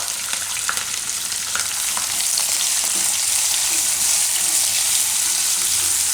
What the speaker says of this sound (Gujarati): ડુંગળીને થોડીક વાર પકાવી લેવું આમાં।